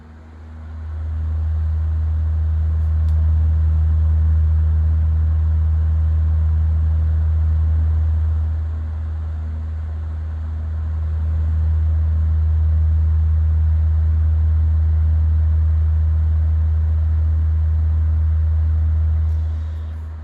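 A vintage Galaxy 9-inch desk fan hums steadily on low speed with a strong, even low drone, dipping briefly midway before resuming, close and alone with no talk.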